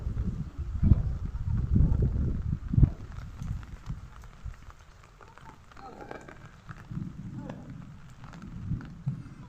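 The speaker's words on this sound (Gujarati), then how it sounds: "જુઓ મિત્રો ફૂલ વરસાદ ચાલુ થઈ ગયો છે" Steady rain pours down, drumming and splashing on surfaces, with low rumbling bursts early on and voices talking underneath.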